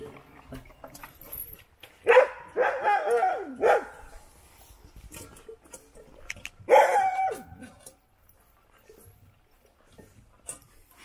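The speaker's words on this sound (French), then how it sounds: "Ah les chiens." Dogs bark and yelp in two loud bursts separated by a quieter gap, with a few softer sounds around them.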